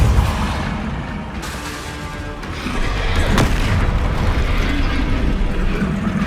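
Spell explosions in a wizarding video game boom through a dense, continuous battle din, with a sharp blast partway in and the rumbling roar growing louder in the second half.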